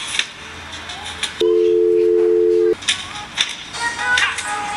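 A phone in a Mario video game rings with one steady electronic tone lasting just over a second, sounding amid busy game noise and chatter.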